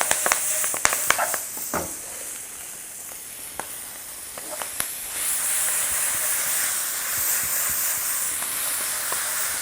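Spinach dropped into a hot pan with chili powder, turmeric and garam masala gives a loud hiss and sizzle that settles into a steady frying crackle, with a few sharp clicks early on.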